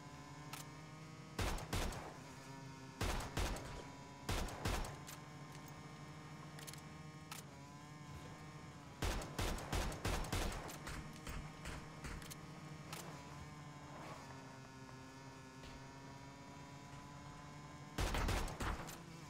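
Gunfire in PUBG: fast bursts of sharp shots crack out in several clusters over a droning vehicle engine, fairly faint throughout.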